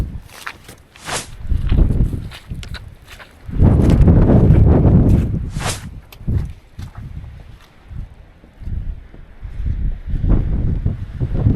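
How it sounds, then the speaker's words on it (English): Strong wind buffeting the microphone on an open Lake District fell, loud roaring gusts that swell and fade repeatedly, with occasional footsteps on the path beneath the blustering. "as promised by the weather forecast, it's very windy"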